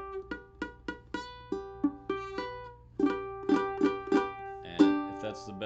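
Ukulele chords strummed in a steady rhythm, each strum plucked-sounding with uneven, slightly buzzy ringing notes, then a denser run of strums toward the end, close and alone.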